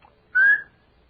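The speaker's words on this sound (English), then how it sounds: "I'm all ready as soon as you blow the whistle." One short, clear whistle tone rises slightly in pitch, lasting about a quarter second against near silence, in an old radio comedy show.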